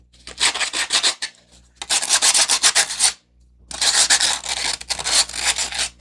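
Sandpaper rubbed against a glass bottle in three long bursts of rapid back-and-forth scraping, close and fairly loud, with short pauses between and no talking.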